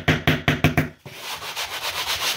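A hammer taps a small nail into a painted wall. Five quick, sharp knocks land evenly, then a softer, longer scraping rub follows, all close up.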